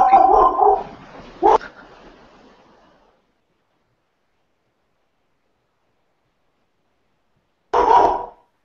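A dog barks in two short bursts in a home workshop setting, a loud cluster at the start and another burst after a long silence, each fairly close.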